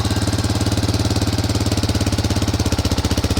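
A Yamaha Raptor 660R ATV engine with twin carburetors idling loudly and close, with a fast, even, throbbing putter that stays steady throughout.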